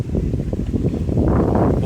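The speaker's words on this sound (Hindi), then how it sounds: "बहुत अच्छी हवा चल रही है यहाँ पे" Wind gusts hard against the microphone at a roadside viewpoint on a road trip from Baku to Gabala in Azerbaijan, a loud, rumbling, buffeting roar that continues throughout.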